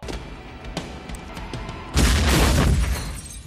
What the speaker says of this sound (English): I appreciate these explosions because they're very realistic.